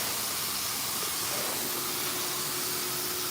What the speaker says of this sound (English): My air compressor,